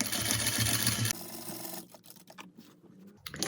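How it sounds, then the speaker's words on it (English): A sewing machine runs close and loud as it backstitches the corner of a zipper pillow, then stops abruptly and leaves faint handling clicks and rustles. "So when I get to the corner, I like to backstitch and then put the needle down at the corner and then pivot and turn and backstitch on the other side."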